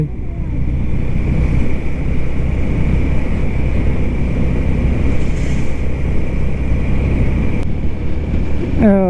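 A Honda CB 125 Hornet motorcycle ridden with a pillion passenger, its engine droning loud and steady alongside dense wind rumble from a close onboard position, with no voices heard.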